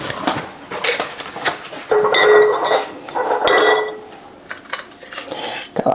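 A wide-mouth jar lid drops and clatters in a kitchen, ringing with loud metallic clinks and bouncing rattles across several seconds before settling, with no talking.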